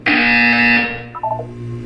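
A loud, harsh electronic buzzer from Portal 2 blares for about three quarters of a second and then cuts off, followed by faint tonal game sounds.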